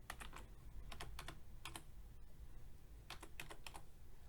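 Quiet clusters of computer keyboard keystrokes enter a grid reference in short bursts of rapid clicks, pausing between groups, close and alone with no talk.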